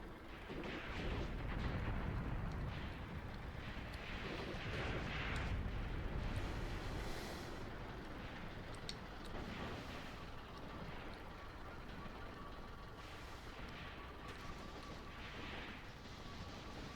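Battle ambience from Graviteam Tactics, 2nd Battle of Kharkov: a continuous rumble of distant artillery and small-arms fire with scattered booms, moderately loud, no talk.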